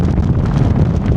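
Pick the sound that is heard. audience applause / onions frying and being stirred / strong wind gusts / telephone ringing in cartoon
strong wind gusts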